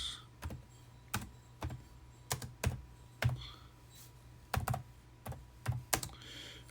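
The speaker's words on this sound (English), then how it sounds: "I'm typing here, so excuse me." Someone types on a computer keyboard in a quiet room, irregular clusters of sharp clicks and key taps spaced by short pauses, close and fairly crisp with no talking.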